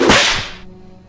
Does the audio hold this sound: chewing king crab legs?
no